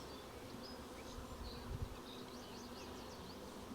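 Faint, continuous buzzing of many honey bees swarming over a frame from a rehomed swarm hive, a soft even drone with occasional closer passes.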